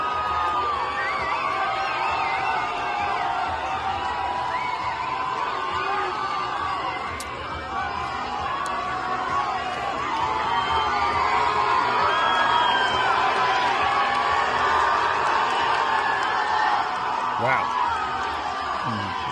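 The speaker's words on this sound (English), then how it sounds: "Big crowd." A big crowd roars and cheers at a public event, a continuous loud wash of shouting and whoops with voices mixed throughout.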